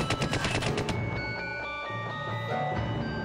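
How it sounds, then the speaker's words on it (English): Rapid automatic gunfire in the Full Throttle Remastered video game, a dense burst of quick repeated shots for the first second, then quieter mechanical clatter and tones continue at moderate level. "You shot me already like 20 times."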